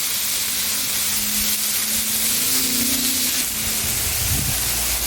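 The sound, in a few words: shrimp sizzling on a griddle in avocado oil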